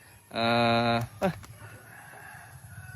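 A chicken in a flock of about twenty gives a loud, drawn-out call followed by a couple of short clucks, with quiet farmyard background noise afterward.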